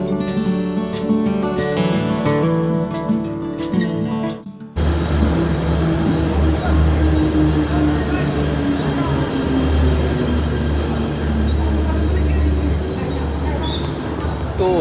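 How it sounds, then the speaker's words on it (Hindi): A passenger train pulls into an Indian railway station, heavy loud rumble and rolling wheel clatter filling the platform after a brief stretch of music, with a long descending squeal of braking wheels. "तो हमारी ट्रेन आ चुकी है और हम अब जाके इसमें बैठेंगे।"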